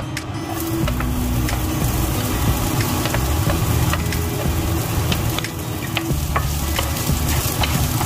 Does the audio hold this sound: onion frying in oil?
yes